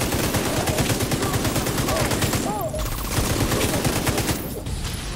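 Turret gunfire in The Division 2 makes dense, rapid automatic bursts mixed with other gunfire and explosions in a busy firefight, steady and loud with a short dip partway through.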